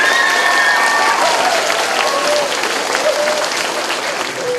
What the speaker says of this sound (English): would you give a wonderful roaring round of applause to your music teacher,